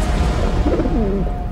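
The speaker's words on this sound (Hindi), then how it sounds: "गुल्लू अब कबूतर है," A soft, low pigeon coo rises and falls once in the middle, faint against a rumbling background.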